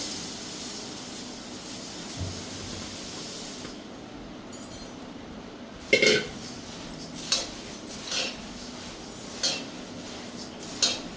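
Puffed rice stirred in a wok to heat it for chiwda, faint dry rustling under a low hum, with several sharp metallic clinks of the spatula against the pan at irregular intervals.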